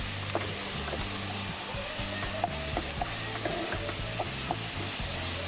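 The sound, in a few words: stirring and mixing food in a hot pan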